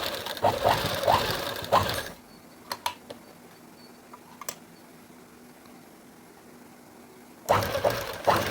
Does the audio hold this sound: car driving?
no